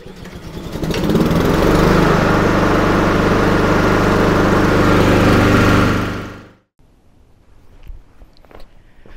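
A Honda lawn mower engine catches and runs loudly at a steady idle close by for several seconds, then cuts out abruptly, leaving quiet background noise.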